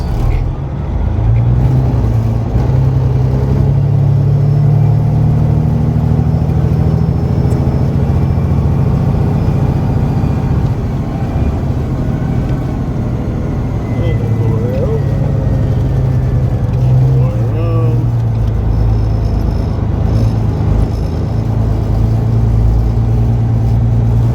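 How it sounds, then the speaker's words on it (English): A van engine hums steadily at low revs as it creeps around a tight corner past gas lines at a grain elevator demolition site, close and continuous with slight rises in pitch. "For this van to come around the corner because she's tight"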